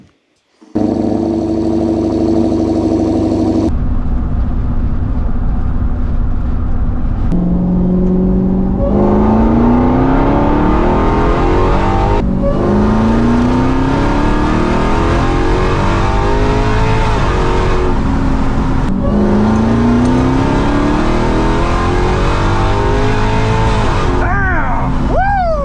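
Tuned Dodge Hellcat-swapped Magnum with power mods accelerating hard, a loud V8 roar climbing through several gears with clear pitch sweeps and shift breaks, close and sustained for the whole run.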